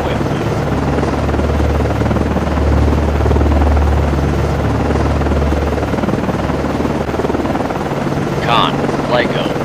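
A steady low rotor drone from an aircraft orbiting close to a Ticonderoga-class cruiser, USS Vella Gulf, in the naval game Cold Waters. It holds continuously at a loud, even level, with faint wind-like hiss above it.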